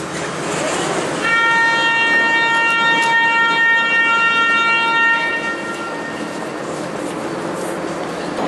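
A Lisbon metro train rolls along with a constant rumble, and a steady multi-tone whine rises over the noise for several seconds before fading back into the running sound.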